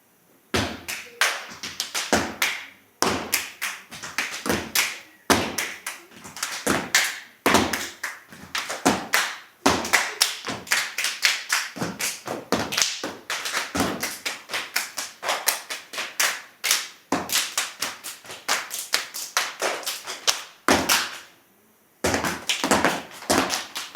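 A girls' step dance team performs at a school art showcase, stomping and clapping in loud, tightly rhythmic bursts that run almost continuously with a few brief pauses.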